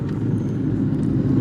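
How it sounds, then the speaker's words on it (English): A car passing on a road, heard as a steady, fairly loud low rumble that holds evenly for the whole moment with no speech over it. "Let's wait for this car to go"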